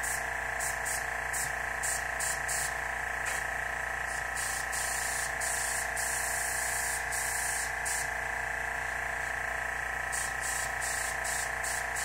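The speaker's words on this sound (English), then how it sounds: "not the airbrush like I'm currently doing" An airbrush sprays paint onto a motorcycle in a steady, continuous airy hiss, broken by short regular bursts as the trigger is worked, close and alone with no talk.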